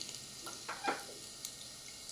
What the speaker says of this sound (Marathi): तेलामध्ये आपण आता थोडे जिरं घालूया. आणि थोडा हिंग घालूया,